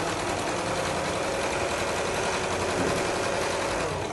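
A sewing machine hums steadily and close throughout, stitching a quilt block seam down to the bottom corner, a continuous even mechanical whir with no pauses.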